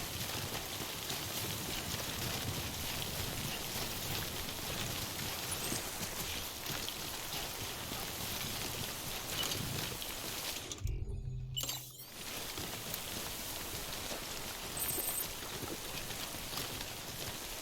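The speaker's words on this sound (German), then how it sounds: "Ich muss aus dem Regen." Rain pouring in the video game Death Stranding, a dense steady hiss of falling drops throughout, briefly cut to near silence for about a second midway before resuming unchanged.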